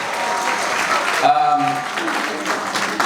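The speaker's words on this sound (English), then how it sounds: "let's give him a round of applause for that" An audience at a school graduation ceremony applauds a first-time singer, with broad steady clapping throughout and a brief sustained tone rising in the middle.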